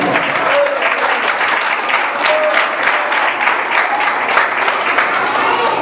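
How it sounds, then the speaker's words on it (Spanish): A church congregation bursts into sustained, loud applause, dense rapid clapping filling the space steadily for several seconds with a faint murmur of voices underneath. "Un aplauso al Señor."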